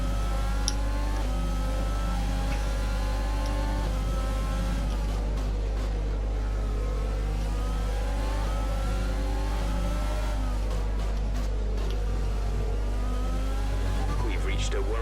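A damaged F1 car engine with heavy wear in the video game F1 2020 revs continuously and loudly, rising and falling through gear changes across the whole stretch, with a voice talking over it.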